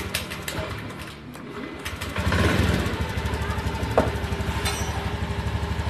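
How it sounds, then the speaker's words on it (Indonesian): A Honda Beat motor scooter engine running unevenly, sputtering and popping in a rapid stuttering rhythm as it is revved, with faint birdsong in the background. "atau ngegas, ada suara mesinnya coba diperhatiin"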